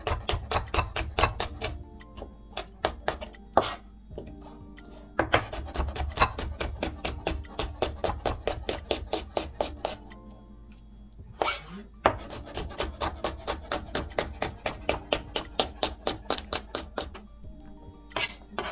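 A knife thinly slicing food on a cutting board for Japanese shabu shabu hot pot, rapid regular tapping chops in long runs with short pauses between them, close and crisp.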